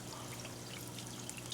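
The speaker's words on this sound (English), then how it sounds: "we have 2 filters running, and then a bubbler right there" Two filters and a bubbler run in a koi stock tank kept in a garage, giving a soft, steady trickle and bubbling wash with no pauses, faint and close.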